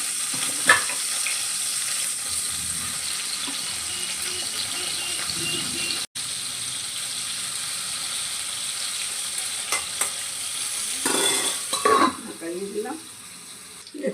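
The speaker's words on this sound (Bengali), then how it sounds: "আমি আলুগুলোকে ভেজে নিচ্ছি।" Potatoes frying in a pan for bottle gourd kofta, a steady broadband sizzle running throughout with occasional stirring clatter and a brief louder burst of movement near the end.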